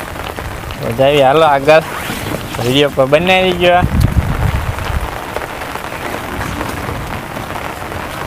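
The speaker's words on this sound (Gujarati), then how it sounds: "દેખાય ને એ બાજુ જોરદાર વરસાદ છે" Heavy rain pours steadily in a village near Botad, a dense continuous hiss that runs throughout while someone talks loudly over the first half.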